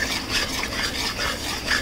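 Chicken pasta mixture with mayonnaise and salt stirred and scraped in a pan, a steady continuous rubbing and light clinking of a utensil, close and fairly loud with no voices.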